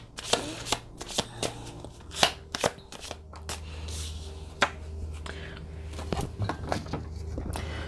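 Tarot cards shuffled and pulled from a deck, a run of crisp riffling snaps and soft slides at close range, with scattered sharper card flicks over a low steady hum and no talk.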